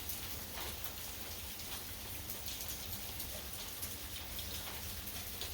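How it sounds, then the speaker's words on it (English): Steady rain shower heard from a back porch, a dense even patter of drops on surfaces continuing throughout with no voices. "Being on our back porch during a rain shower"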